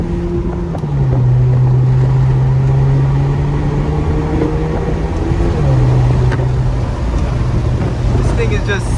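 A straight-piped Infiniti Q50 runs with a loud, steady droning exhaust note heard from inside the car as the wheels spin, the pitch holding and then dropping slightly, with road and wind noise and voices talking over it.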